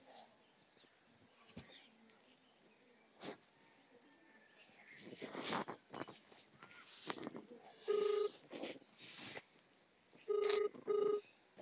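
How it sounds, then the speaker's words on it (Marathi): Electronic keypad tones beep as a phone number is dialed, short tones in quick bursts over quiet room noise. "मम्मीला सांगते फोन करून"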